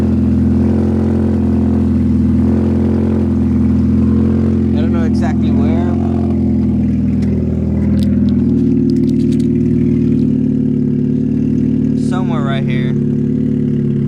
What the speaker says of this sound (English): It sounds like I still have an exhaust leak, but not from the front anymore now.